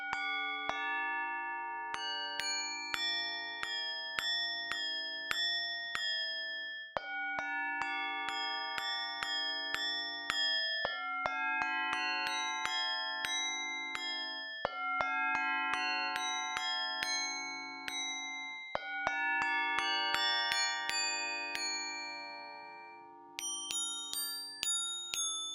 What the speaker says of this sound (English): It's got this lovely bell chimey thing.